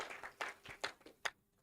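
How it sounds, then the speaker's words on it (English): Sparse, faint applause from a conference audience for a logistics panelist, a few scattered distinct claps rather than a full ovation, fading out. "Please let's give him another round of applause"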